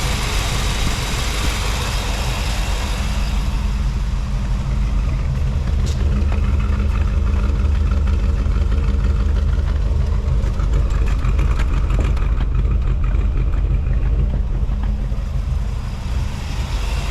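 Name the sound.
1957 Ford Thunderbird engine idling after cold start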